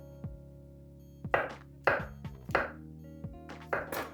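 A knife chops through vegetables onto a board in a series of crisp, fairly regular strokes, close up, with no talking.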